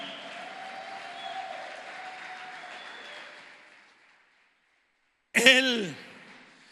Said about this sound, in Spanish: Dale un aplauso a alguien que celebre